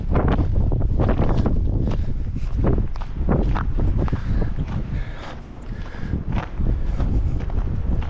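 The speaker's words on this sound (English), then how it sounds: "Yep, way too fucking windy." Strong gusts on an extremely windy afternoon in Hespeler, Ontario batter the microphone with loud, continuous rumbling buffets and roaring noise that surges and eases throughout, with no clear talk.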